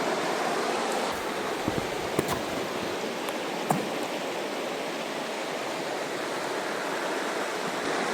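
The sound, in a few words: clear river water flowing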